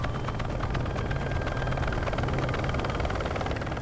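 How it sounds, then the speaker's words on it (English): Steady whirring rotor and engine drone of a helicopter flying over a city, continuous and fairly distant, with no voices. "That helicopter flying through the city there?"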